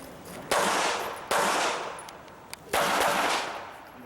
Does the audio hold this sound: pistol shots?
yes